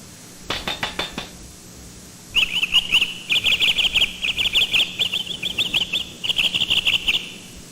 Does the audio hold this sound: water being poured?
no